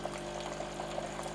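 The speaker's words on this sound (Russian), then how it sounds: "Сейчас он, скорее всего, просто воду прольет всю." A washing machine drains water during its rinse cycle, a steady low rushing hum with faint gurgling splashes throughout, no voices.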